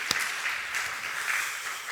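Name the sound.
church congregation applause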